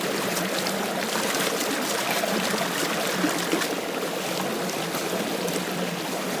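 Water rushes and trickles continuously as a gold pan is rinsed in a Vermont stream, a dense, close, even wash with no voices.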